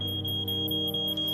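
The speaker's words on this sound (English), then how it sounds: "We hear the smoke detectors go off." Smoke detectors going off indoors at night, a loud high pulsing beep repeating about five times a second, steady and piercing with no voices.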